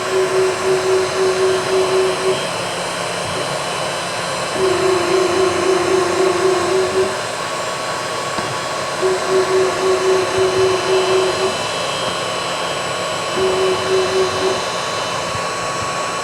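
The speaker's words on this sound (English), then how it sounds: "I'm just going to kick on the router and make a quick little slice" A router cutting a clearing pass in a Martin 00 style acoustic guitar body, heard as four loud, steady whining bursts of a few seconds each. Quieter shop hum fills the gaps between them.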